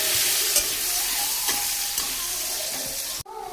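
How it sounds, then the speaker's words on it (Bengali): Potato pieces frying in oil with a little salt and turmeric for a prawn and young jackfruit dish, a loud continuous sizzle with scraping stirs throughout that drops off sharply near the end. "আলুটা ভাজা হয়ে গেছে"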